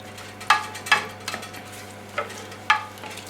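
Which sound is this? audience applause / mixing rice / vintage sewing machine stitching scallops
mixing rice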